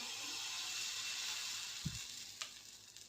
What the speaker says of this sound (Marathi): आता ह्याच्यावर उत्तापा घालते